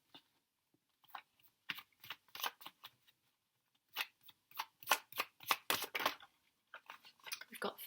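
A deck of angel cards is shuffled by hand, quiet close riffs and shuffles in short bursts separated by silent gaps, no voices present.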